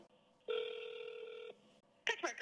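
A telephone on-hold tone sounds as one steady electronic beep lasting about a second, fairly quiet, followed by a brief burst of voice.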